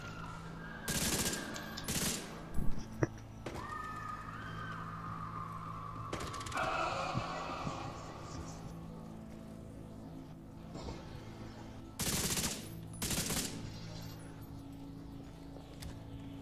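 Gunfire in The Division 2 during a rat hunt at Coney Island: several short loud bursts of automatic shots spaced apart over a quiet background hum, with faint mechanical clicks between them.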